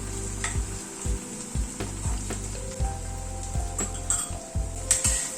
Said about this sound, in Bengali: সবগুলোকে আবার পেঁয়াজের সাথে ভেজে নিচ্ছি। গ্যাসের ফ্লেমটাকে কিন্তু মিডিয়ামে রেখেই মশলাটা ভাজছি